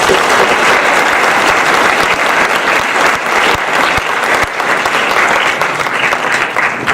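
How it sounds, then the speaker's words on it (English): Steady, loud applause from an audience at a school winter sports awards night fills the room continuously for the coaches, with dense clapping and little else. "Let's give them a round of applause."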